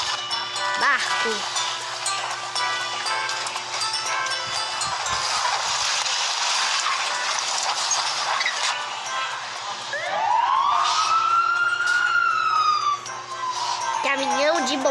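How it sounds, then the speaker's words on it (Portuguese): A fire truck siren sounds loud and steady, with a wailing tone rising and falling over a continuous engine drone. The siren is heard alone. "caminhão de bombeiros"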